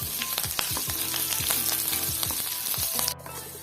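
Dried red chillies and curry leaves crackle in hot oil as a tempering for a homestyle chicken curry, a loud, dense sizzle punctuated by rapid, rhythmic spatula strikes against the pan before it quietens slightly at the end.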